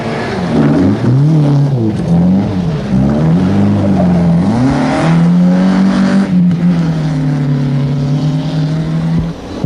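A rally car rounds a corner on the 1987 Zimbabwe Challenge Rally, its engine loud and close, pitch rising and falling as it brakes, revs and accelerates away, with no talk over it.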